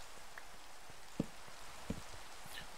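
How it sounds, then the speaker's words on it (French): Steady rain falling in Minecraft, an even hiss of rainfall with a couple of louder drop or thud accents, no voices. "C'est chiant la pluie quand même."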